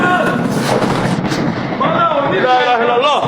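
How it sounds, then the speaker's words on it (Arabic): Heavy explosions and bursts of gunfire from armed clashes in Sudan rumble and crack continuously, loud and dense, with people's voices talking over the barrage. "اشتباك انفجارات."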